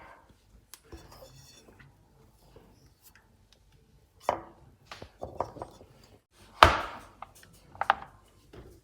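A knife chopping a chocolate bar on a board for chocolate chip brioche, starting with faint scattered taps and then building to a run of louder, close, uneven chops with one sharp crack.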